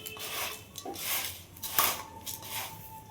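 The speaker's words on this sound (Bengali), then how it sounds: "দেখো মুড়ি মাখছি" Puffed rice for jhal muri being mixed by hand in a bowl, intermittent rustling and scraping swishes with light clinks, close and moderately quiet.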